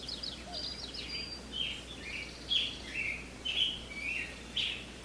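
Scattered bird chirps and calls, some near and some distant, over a soft steady breeze hiss in a quiet outdoor 3D soundscape, with no talking.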